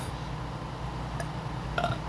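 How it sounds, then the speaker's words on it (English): A faint, short burp rises briefly over a steady background hum, followed by a small clicking noise a moment later. "Apologies for the burp, so disgusting"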